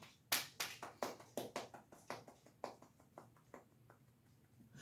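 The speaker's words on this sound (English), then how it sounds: "That's me giving myself an applause because I've done a great job at the reports" One person claps for themselves, about a dozen sharp close claps that start loud and quick, then slow and soften.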